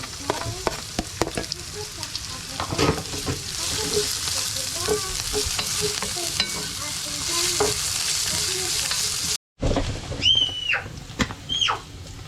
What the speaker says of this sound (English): I'm adding in garlic and ginger together with capsicum to let them fry all